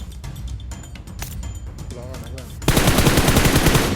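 Gunfire in PUBG Mobile: scattered distant shots and chatter give way to a loud, sustained burst of rapid automatic fire in the final second and a half, with voices talking earlier.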